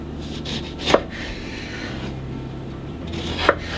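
A kitchen knife slices through a lemon on a cutting board, making two crisp, close chops a few seconds apart with quiet rubbing between them.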